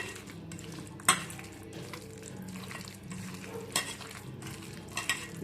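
Mashed baingan bharta, the smoky eggplant mash, being worked together with fried onion by hand, giving soft squelching and smearing sounds with a few sharp taps against a dish, steady and close with no talking.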